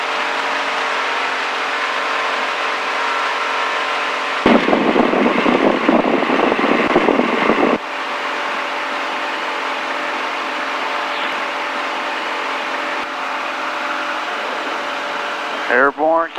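Light STOL aircraft engine drones steadily through a takeoff run on a short-field STOL course, with a louder rough burst midway and some brief talk near the end.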